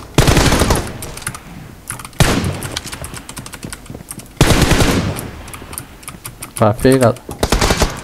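Rapid automatic gunfire in an online team-deathmatch shooter, loud, close bursts repeating through the stretch, while a player talks over the shots.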